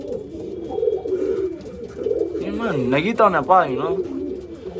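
Pigeons in a pigeon-racing challenge, cooing in repeated throaty warbles that grow louder partway through, with someone talking over the start.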